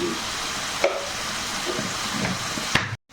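Bitter gourd stir fry sizzles steadily in a hot pan as turmeric powder is added, a close, even crackle with a couple of soft stirring knocks before it cuts off.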